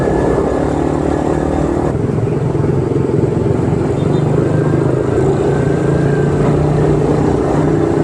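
A Yamaha NMAX scooter pulls away in dense city traffic in Pasig City, its engine drone blending with the constant roar of nearby vehicles. Someone talks over the loud, unbroken road noise.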